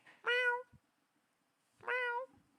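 A cat meows twice, clearly and close by, with a long pause between the two calls and near silence around them.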